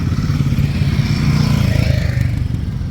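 A group of off-road motorcycles rides out together, their engines making a steady, fairly loud rumbling drone that holds at an even level throughout with no voices.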